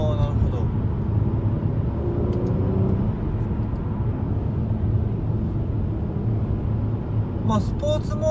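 A 2016 Mercedes-Benz C450 AMG 4MATIC pulls away in sport mode, heard from inside as a steady engine drone and road roar that rises slightly as the revs climb.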